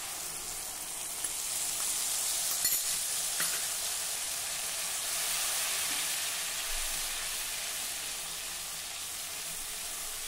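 Spices soaked in water are sautéed in hot oil over medium heat for a spiny brinjal curry, giving a loud, continuous hissing sizzle that stays steady throughout with no talking.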